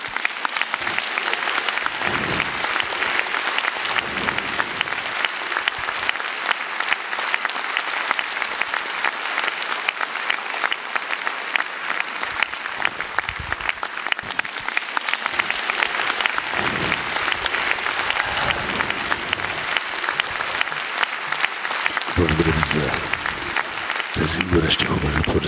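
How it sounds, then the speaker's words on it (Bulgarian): A concert audience applauds at a family music performance, with sustained dense clapping filling the space loudly for the whole stretch. "Аплодисменти."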